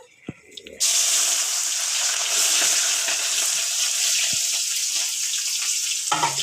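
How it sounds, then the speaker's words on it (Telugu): Sliced onions drop into hot oil with a loud, sudden burst of sizzling that settles into a dense, steady crackling hiss close by and lasts several seconds. "బాగా వేడైంది నూనె అయితే ఉల్లిగడ్డలు కూడా వేసేస్తున్నా"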